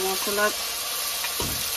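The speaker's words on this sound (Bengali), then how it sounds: "এখন একটু ভেজে নিব" Chopped onions and spices frying in a pan, a soft steady sizzle with a few scrapes of stirring, faint and close, with brief bits of a voice at the start.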